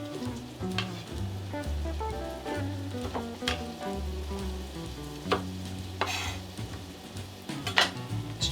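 Celery root and onions sizzle steadily in a pan as they caramelize, a continuous frying hiss with occasional utensil clinks and scrapes against the cookware, and nothing spoken.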